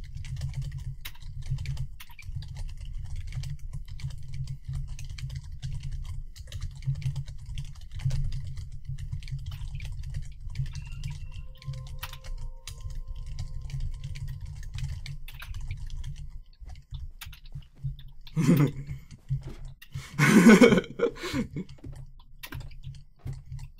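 Steady rapid typing on a computer keyboard clatters for a long stretch, close and continuous, before it breaks into sparser keystrokes with a couple of louder bursts of voice near the end.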